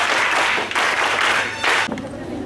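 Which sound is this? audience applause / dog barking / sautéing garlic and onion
audience applause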